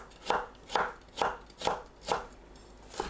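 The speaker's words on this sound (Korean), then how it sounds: "당근을 곱게 채 썰어줍니다." A knife finely julienning carrot on a cutting board, giving six crisp, evenly spaced chops in a steady rhythm, close and fairly quiet with no talk.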